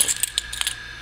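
Metal keys jingle and clink against a Victorinox Classic SD pocket knife, a few quick bright taps close up with a faint steady hum underneath.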